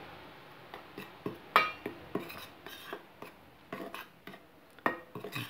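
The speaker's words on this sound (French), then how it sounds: "Je mélange tout." Zlabia batter is mixed in a bowl, giving a steady run of light clinks and scrapes as a utensil strikes the bowl every half second or so, close and fairly soft, with no talking.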